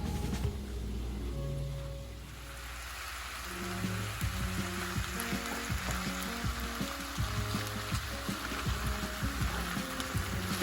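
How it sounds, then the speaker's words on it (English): Refried beans are worked into ground meat frying in a pan, giving a steady crackling sizzle with occasional scraping under background music. "Just want to try to work it into the meat and get it all incorporated."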